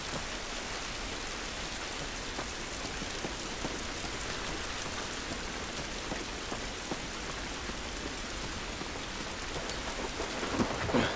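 Heavy rain falling outdoors in The Last of Us, a dense, steady hiss of downpour on surfaces with scattered drips and a low rumble, loud and unbroken with no speech.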